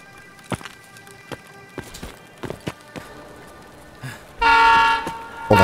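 In the Escape from Tarkov video game, a train horn blares loud and sustained near the end, after a run of sparse clacks and thuds. There is no talking over it.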